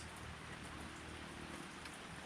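Rain falls steadily around a bahay kubo, a constant soft hiss of drops spread evenly across the whole moment, quiet and unbroken with no voices.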